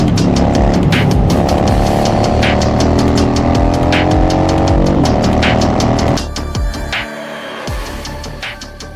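A 2016 Harley-Davidson Wide Glide (FXDWG) motorcycle engine runs close by with a deep, sustained rumble, its pitch shifting slightly before the sound eases toward the end.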